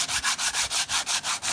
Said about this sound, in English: I got 80 grit sanding block. I'm gonna try to break that glaze.